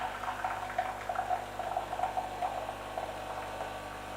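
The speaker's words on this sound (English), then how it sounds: "So now it'll just pump the water into the machine" A Bosch Tassimo My Way 2 coffee machine hums steadily as its pump pushes water through while brewing a latte, with faint bubbling gurgles over a constant low drone, close and moderately quiet.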